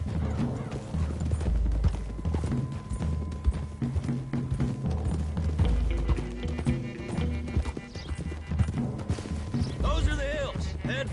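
Rhythmic hoofbeats of galloping horses in a PS4 video game pound beneath music, with a whinny near the end and a voice speaking briefly over the action.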